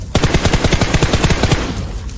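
Rapid automatic gunfire in the mobile shooter PUBG Mobile, a steady burst of about a dozen close, loud shots fired in quick rhythm for two seconds with no talking.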